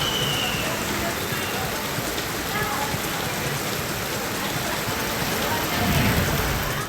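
Heavy monsoon rain pours steadily in Sangameshwar, Ratnagiri, a dense constant hiss of downpour that stays loud and unbroken throughout.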